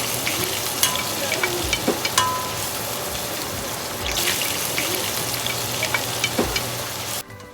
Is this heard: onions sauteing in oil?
yes